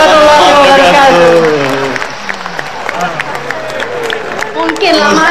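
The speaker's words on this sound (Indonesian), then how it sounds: "Kita beri tepuk tangan sekali lagi untuk Ustaz Abdul Somad" An audience at an award ceremony for Ustaz Abdul Somad breaks into applause. The clapping builds under someone speaking over a microphone, then carries on as a steady wash of hands with scattered crowd noise.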